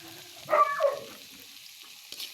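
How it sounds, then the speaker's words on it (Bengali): Food fries in a pan seasoned with salt and turmeric, giving a quiet, brief crackle and stir near the start that fades to a low, faint sizzle, with one small clatter near the end. "এটাকে ভালো করে ভাজা ভাজা করবো"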